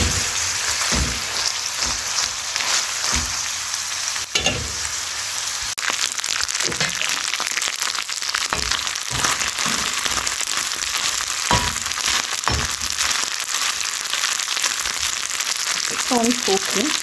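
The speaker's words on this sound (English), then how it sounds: "So we are frying our omena" Steady crackling sizzle of oil deep frying omena, small fish, loud and close, with occasional sharp pops and clinks and a voice briefly near the end.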